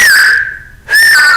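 A person whistles one sustained, steady note up close and loud. The tone fades and breaks off briefly, then returns just as strong and holds to the end, with no other sound around it.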